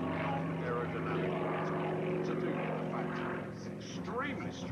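A warbird aeroplane performs at the Warbirds Over Wanaka 2004 air show, its propeller engine producing a steady, fairly loud droning hum that holds throughout with slight shifts in pitch.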